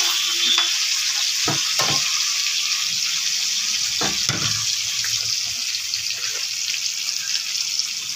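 Cubed onion and capsicum sizzle in hot oil with a little salt for chilli chicken, a steady close frying hiss broken by a few scraping stirs of the pan.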